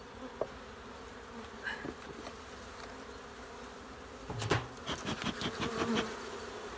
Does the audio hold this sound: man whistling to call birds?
no